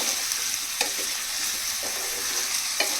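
Bottle gourd curry sizzling in a frying pan while a spoon stirs it, a constant hiss of frying with a few soft scrapes and taps against the pan, close and without talk.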